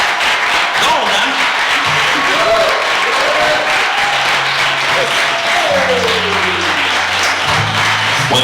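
Audience applause for a guest named Sanford at a live show, a dense wash of clapping running throughout with voices speaking over it.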